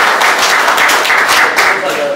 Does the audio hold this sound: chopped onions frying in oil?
no